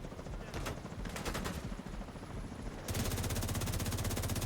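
Rapid automatic gunfire from a weapon in The Division 2, a dense, continuous stream of shots that grows louder and sharper for the final second and a half, with no talking over it.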